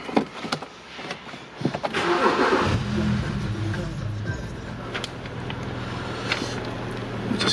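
A BMW 1 Series 125i SE convertible with a 3.0 petrol engine and manual gearbox starts up: clicks and a starter whir, then the engine catches and settles into a steady, fairly loud idle close by.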